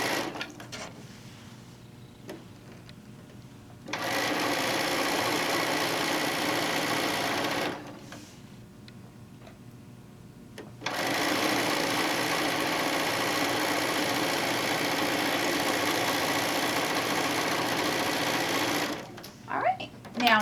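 Sewing machine stitching fat quarter quilt fabric runs in two long steady whirring bursts separated by short pauses, close up, with a voice talking quietly in the gaps.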